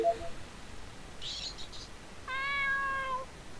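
A cat in a video game lets out a single clear, drawn-out meow after a brief softer sound, heard alone against quiet background.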